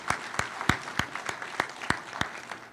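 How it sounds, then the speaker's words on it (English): A small church audience gives scattered applause for roofing volunteers on a mission trip, a handful of distinct claps in a loose, steady rhythm, fairly soft and with no voices. "give them a round of applause"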